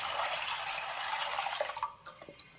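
Milk poured over roasted semiya (vermicelli) on low heat for carrot payasam: a steady, close splashing pour that tapers into a few scattered trickles and drips, with no voices.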